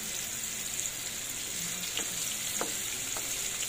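Onion sautés in a pan with a steady, fairly faint sizzle, broken by a few light clicks and scrapes from stirring, and no voices.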